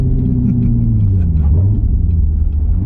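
A C7 Corvette Grand Sport with an AWE Track Edition exhaust drones steadily while driving, deep low rumble, loud and close, holding a constant throaty exhaust note throughout.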